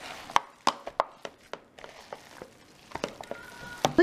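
Ground burger patty meat being mixed by hand, heard as a series of soft, wet slapping and squishing hits at an uneven rhythm, close and fairly quiet with no talk.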